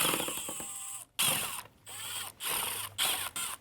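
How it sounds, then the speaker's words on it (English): A ratcheting driver with T25 and T30 bits backs screws out of the lock carrier underneath an Audi S5, giving several clicking ratchet bursts broken by brief pauses, close and clear. "With a T25 and a T30, we're going to take the screws off of the bottom of the lock carrier here."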